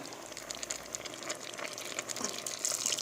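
Water poured from a tap or jug into a pot of chicken basquaise with tomatoes, a steady splashing pour that swells louder toward the end, with no talking.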